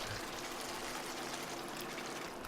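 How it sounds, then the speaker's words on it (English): Water poured into a cooking pot with tomato puree while a stock is being made, a steady close trickling and splashing that runs unbroken with no talk over it. "some more water"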